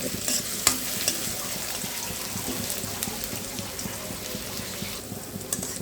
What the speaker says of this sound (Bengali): পেঁয়াজটা কুচিয়ে দিয়ে দিয়ে আর দিয়ে দিলাম কিছু কাঁচামরিচ সেটা দিয়ে একটু কষিয়ে নেব